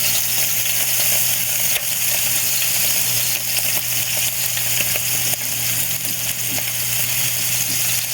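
Onion and garlic frying in reused cooking oil in a pan, a steady close sizzle holding throughout with faint scattered crackles.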